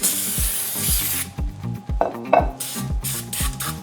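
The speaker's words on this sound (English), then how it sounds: "All you have to do is spray it" A steady hiss of baking spray from a can into a bundt cake pan for about a second, followed by scraping and brushing sounds over a rhythmic low thumping background.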